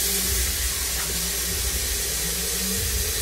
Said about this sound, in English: let me get some water in here.